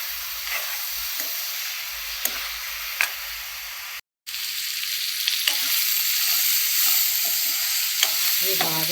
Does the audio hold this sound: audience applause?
no